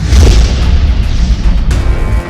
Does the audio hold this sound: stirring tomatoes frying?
no